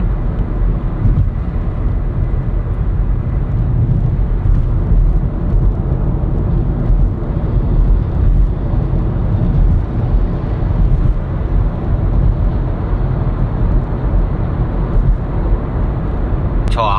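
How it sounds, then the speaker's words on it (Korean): A car coasts downhill under engine braking, giving a steady, loud low drone of engine and road noise heard from inside the cabin throughout, with no sharp changes. "여기는 내리막길이니까 엔진 브레이크로"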